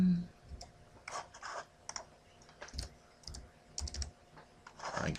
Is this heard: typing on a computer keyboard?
yes